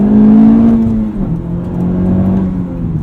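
Honda Civic Type R engine revving through a rev-matched downshift, a loud close engine tone that holds, then dips and climbs again, with no talking.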